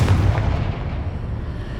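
Confringo blasting spell going off in the video game Hogwarts Legacy on PS5, a single loud, deep explosive boom that rumbles and fades over about two seconds.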